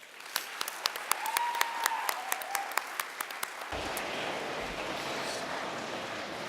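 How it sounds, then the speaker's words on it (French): Scattered sharp claps build into a steady, dense wash of applause from an audience at a youth forum in Winnipeg, continuing to the end. "one last huge round of applause."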